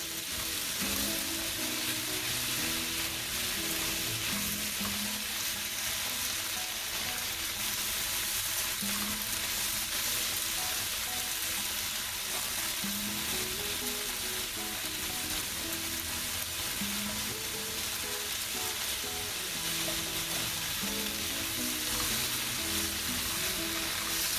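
Shrimp sizzle and fry steadily in a hot pan for shrimp chow mein, a dense, continuous crackle close up with no talking.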